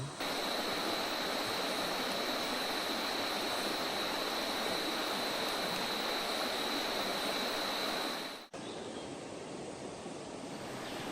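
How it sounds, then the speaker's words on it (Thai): Water rushes continuously over rocks in a loud, steady wash, close by, with no pauses and no voices. "บรรยากาศก็อย่างนี้เลย ริมลำธารนะครับผม"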